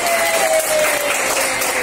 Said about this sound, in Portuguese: vamos aplaudi-la